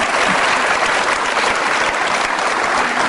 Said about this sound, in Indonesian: Boleh berikan tepuk tangan barangkali.